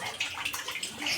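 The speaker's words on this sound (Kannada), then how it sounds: "ಇದು ಕಾಶಿಯಿಂದ ನೀರು ಬರುತ್ತೆ." Water flows steadily at a temple, a continuous bright splashing stream heard close and alone, with no voices.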